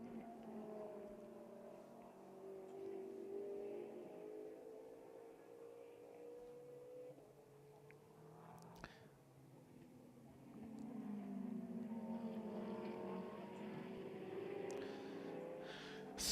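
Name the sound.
GT race cars accelerating through Chapel Curve at Silverstone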